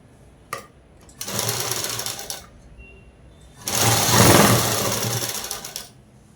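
A sewing machine stitches a black blouse in two bursts of rapid, even needle chatter, the second longer and louder, separated by a brief quiet pause with a small tap.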